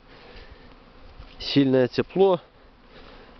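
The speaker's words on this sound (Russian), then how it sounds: "И вышли пчелы на облет" Honeybees flying out on a sunny April cleansing flight in southern Belarus, Pripyat Polesie, make a steady close buzzing hum, with someone talking briefly over it midway.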